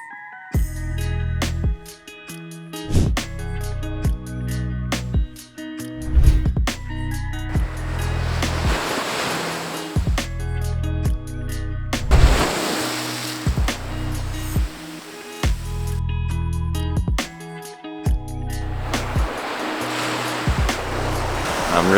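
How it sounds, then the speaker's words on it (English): Ocean waves roll in and wash back on a beach, a continuous near surge with repeated swells, heard alone with no voices. "how more perfect can you get than watching the waves come in and out right here?"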